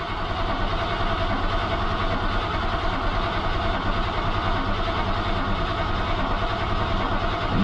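A Mercedes W126 560SEL, off the road for 12 years, runs at a steady idle: a continuous, even engine hum and rumble at moderate loudness, with no changes in pace.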